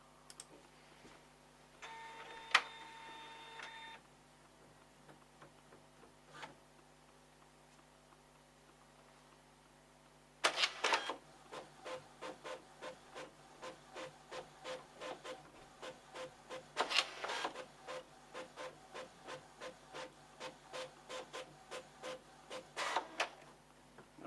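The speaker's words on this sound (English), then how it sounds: "I'm going to send a 2-page single-sided job followed by a 2-page double-sided job to the machine" A Lexmark GENESIS S815 laser printer runs office print jobs, starting with a few faint clicks and tones, then settling into a steady, fairly loud rhythmic clatter of mechanical ticks with periodic bursts of rushing feed noise.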